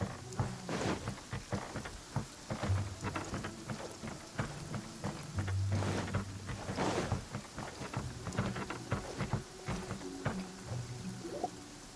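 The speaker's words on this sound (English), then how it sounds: "Taking a stroll in the middle of a downpour certainly rouses the spirit." Heavy rain pours down in the video game Genshin Impact, a continuous hiss of falling water with scattered louder splashes and low rumbles throughout, moderately quiet and with no voices.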